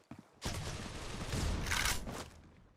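Rapid gunfire in the video game C-OPS, pre-fired into mid from behind a metal wall: a dense, crackling burst of shots lasting about two seconds after a couple of faint early pops.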